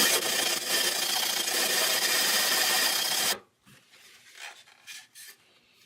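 The cut end of a Black Diamond Alpine Carbon trekking pole is sanded smooth in a steady, loud abrasive rasp for about three seconds, then it stops and only faint scuffs and handling noises follow.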